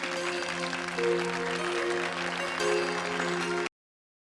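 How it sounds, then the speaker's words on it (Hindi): Audience applause greeting a performer at a staged show in a Hindi crime TV drama, steady clapping blended with loud music for several seconds before cutting off abruptly. "तालियों से स्वागत कीजिए प्लीज।"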